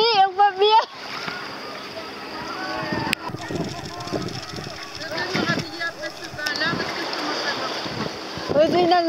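Wind at sea during a boat outing, gusting and buffeting the microphone amid splashing water, with people talking loudly over it at the start and end.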